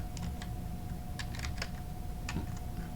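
Sparse, uneven clicks of typing on a computer keyboard, with short bursts of keys separated by pauses, heard close against a faint background hum.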